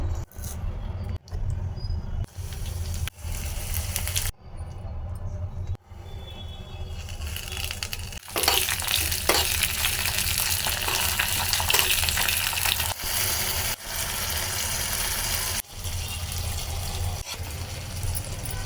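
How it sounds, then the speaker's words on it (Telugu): Curry leaves, garlic and dried red chillies sizzle in hot oil for a tempering, giving a steady, close, loud frying hiss with a few brief pauses and a louder stretch in the second half. "తాలింపు కోసం అయితే నేను ఈ ఐటమ్స్ తీసుకున్నాను కరివేపాకు వెల్లుల్లిపాయలు ఎండుమిర్చి"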